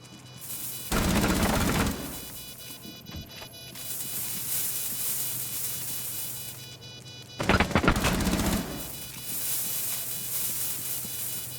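Gunfire in a first-person shooter replay with barbed wire on the map, two loud bursts of rapid shots a few seconds apart, with quieter game ambience and faint buzzing in between.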